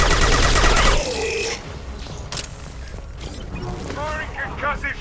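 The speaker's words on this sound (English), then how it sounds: "Firing concussive shot!" A concussive shot weapon firing during Mass Effect: Legendary Edition combat, opening with a loud burst of explosive gunfire and rumble that quickly drops to a lower din of battle noise and scattered effects.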